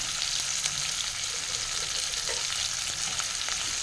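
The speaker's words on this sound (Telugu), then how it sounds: "దాన్ని బాగా కలుపుకొని ఈ తరిగిన ఉల్లిపాయలు వేసేసుకుందాం." Chopped onions sizzle steadily in a pan with a pinch of turmeric, a close, even, hissing fry with faint stirring scrapes and no voices.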